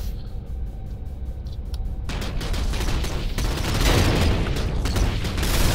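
A turret fires in a video game as a rapid rhythmic burst of gunshots, then a heavy, sustained barrage of loud fire and booms builds and continues to the end, with no talking.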